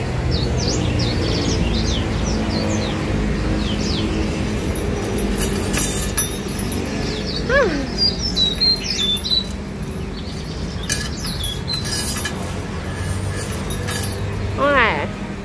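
Bird at a street food stop squawks and chirps in short bursts, scattered through a noisy outdoor scene with clinking sounds and people speaking.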